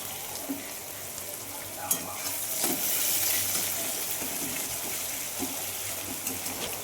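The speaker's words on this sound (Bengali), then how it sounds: "এখানে আলুগুলো এখন ভাজা করে নিচ্ছি" Potatoes frying in a pan in a home kitchen, giving a steady broadband sizzle with occasional stirring scrapes and small clatters, moderately loud and continuous throughout.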